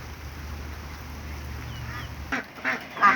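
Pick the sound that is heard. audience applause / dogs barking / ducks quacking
ducks quacking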